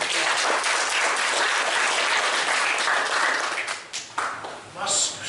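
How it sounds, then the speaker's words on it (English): An audience at a county Republican party meeting applauds a sheriff, dense clapping for about four seconds before thinning out into scattered claps and murmurs. "Let's give him a round of applause."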